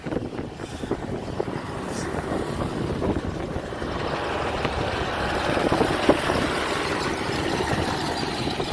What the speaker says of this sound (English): I think there's a tractor going by.